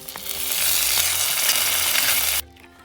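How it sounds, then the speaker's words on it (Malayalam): Thinly sliced shallots sauté with dried red chillies and curry leaves for a Kerala-style rasam without tomato. A loud, close, continuous sizzle holds steady, then cuts off abruptly, leaving a faint quiet tail. "നാല് ചെറിയ ഉള്ളിയും നീളത്തിൽ ചെറുതായി തരിഞ്ഞ് വഴറ്റി രസത്തിൽ ചേർക്കുക."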